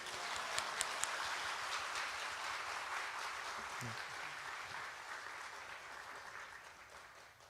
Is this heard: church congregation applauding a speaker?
yes